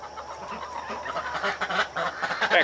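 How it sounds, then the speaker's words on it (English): Backyard chickens and ducks cluck and call in a busy, continuous stream of overlapping bird sounds at moderate volume, with no speech. "Wow, there's the chickens and the ducks."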